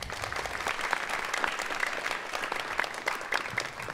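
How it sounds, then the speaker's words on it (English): An audience at a small-group jazz concert applauds the band members with steady, full clapping from a moderately sized crowd, continuous throughout without any talking. "Please give a round of applause to my bandmates."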